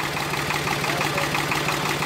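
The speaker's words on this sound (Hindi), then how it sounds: "आवाज सुनिए क्या शानदार आवाज है। इसमें किलोस्कर का इंजन है" Preet 4549 tractor with a Kirloskar engine running steadily nearby, a continuous low chugging drone with a faint knocking rhythm and no talk.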